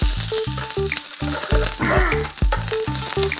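A bullseye fried egg sizzles in a pan, giving a steady crackling fry throughout, with a repeating tonal pattern running over it.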